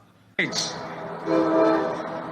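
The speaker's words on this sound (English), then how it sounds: "And here comes the train" A commuter train passes near an outdoor political rally, its horn sounding abruptly and loudly, then holding a steady tone over continuous rumble and crowd noise.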